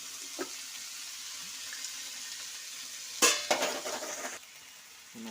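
Shredded chicken added to hot oil on a tawa for a chicken cheese omelette, giving a sudden sharp sizzle burst that fades over about a second against a quiet background.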